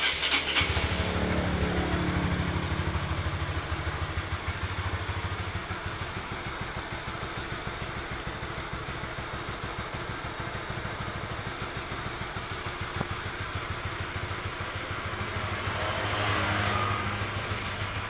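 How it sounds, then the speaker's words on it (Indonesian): A Honda CB150R motorcycle engine cranks and catches, then settles into a steady rattling idle that runs on, fairly close and loud, with no voices. "dan nyala dua kali, kemudian motor bisa dihidupkan."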